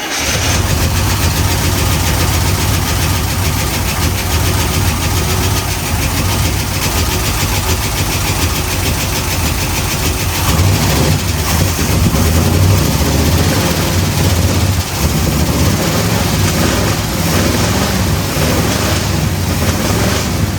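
An International Travelall engine starts on a temporary fuel system and settles into a steady, loud idle that runs unbroken the whole time, with no talking.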